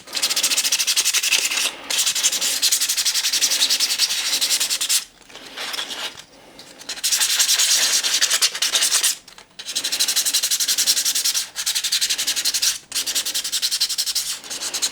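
A 3D printed shark is sanded by hand, a loud, close rasping scrub in long continuous strokes broken by several short pauses.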